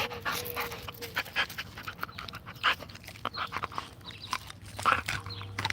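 A dog eating, with loud close panting and snuffling broken by quick wet chewing and biting noises in an uneven rhythm, heard alone without talk.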